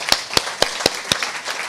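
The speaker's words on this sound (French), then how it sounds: "Donc je vous propose de l'applaudir également." Sparse, hesitant hand claps at a university public lecture on democracy, five or six sharp evenly spaced claps in under two seconds, moderately close, with no crowd swell and no talk.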